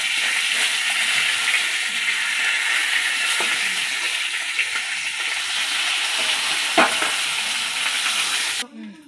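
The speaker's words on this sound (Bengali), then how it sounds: "মাথা ভাজার জন্য কড়াইয়ে দিয়ে দিলাম তেল" A fish head fries in mustard oil in a wok, a loud steady hiss and crackle that runs unbroken for several seconds before cutting off abruptly at the end, with no talk.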